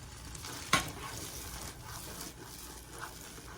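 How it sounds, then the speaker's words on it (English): A Coca-Cola cake mixture heating in a pot, giving a soft continuous bubbling hiss with one sharp clink of a utensil against the pot near the start. "it's starting to come to a boil"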